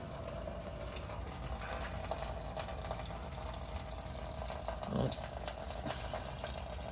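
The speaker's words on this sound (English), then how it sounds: "There you go, draining out the radiator now" Coolant running steadily out of the radiator of a turbocharged B20 VTEC engine during an overheating repair, a constant liquid pour with a brief louder splash near the end.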